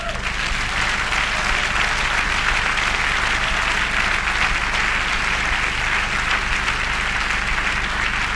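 A church congregation applauding during a worship service, dense sustained clapping at a loud level that fills the whole stretch without pause, with voices mixed into the applause.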